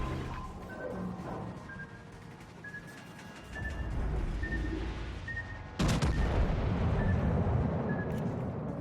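Naval guns boom in World of Warships: Legends, a loud broadband blast that hits suddenly and rumbles on over game noise and faint tonal effects.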